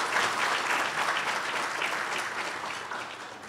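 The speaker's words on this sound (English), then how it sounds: "I'm going to lead us in applause there." Audience applause at a swearing-in ceremony for a newly appointed Douglas County fire chief, a steady wash of many hands clapping in a room that slowly tapers off.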